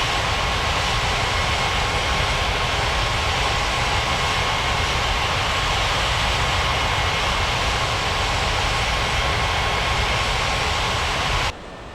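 An airliner lands on runway 35 left at an airport in a video game, heard as a steady, loud engine roar with broad rushing noise that holds evenly for the whole stretch before cutting off abruptly at the very end.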